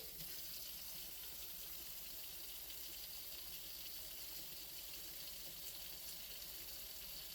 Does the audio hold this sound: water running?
yes